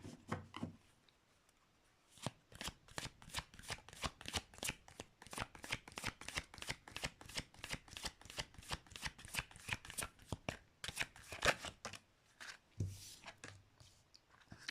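Tarot cards being shuffled by hand, a long run of rapid crisp riffles and taps in steady rhythm, close and clear, with brief pauses at the start and end.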